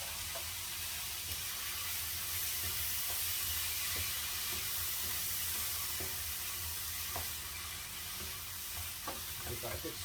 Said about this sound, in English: Give that a good stir around.